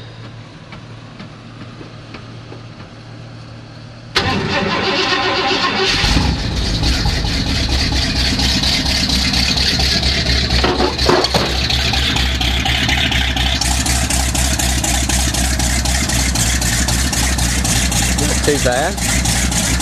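A 1979 Ford F150 engine turns over and catches on a cold January night, then settles into a loud, steady rough idle that continues to the end, with a few words spoken early on.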